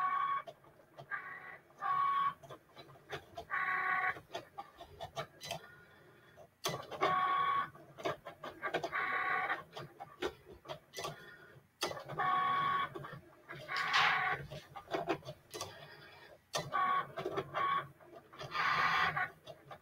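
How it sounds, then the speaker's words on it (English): A Cricut cutting machine at work in a home craft setting makes odd, irregular noises: repeated short whirring and squeaking bursts, some of them chirping and almost clucking, broken by brief pauses and sharp clicks. "my Cricut has been making some weird noises"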